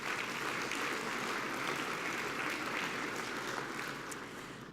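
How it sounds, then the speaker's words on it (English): Steady round of applause from a conference audience after a keynote speaker, dense even clapping that carries on at moderate level and fades slightly toward the end. "How about another round of applause for Michael Hagstrom?"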